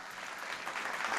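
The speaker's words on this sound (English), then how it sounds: "these girls deserve a round of applause just for being here" Audience applause during the Miss Earth Australia 2018 pageant, a steady, dense wash of clapping that holds evenly through the moment, moderately loud and with no voices over it.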